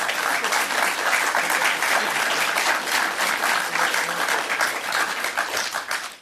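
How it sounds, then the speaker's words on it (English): An awards ceremony audience applauds steadily throughout, a dense, loud, even wash of many hands clapping without a break. "Let's give another round of applause to our special award winners tonight."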